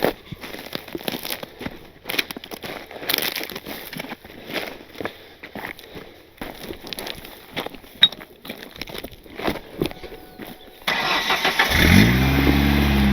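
A manual-transmission car stuck on a branch off-road: shuffling and clunks inside the cabin, then near the end the engine cranks and catches into a loud, rough running roar.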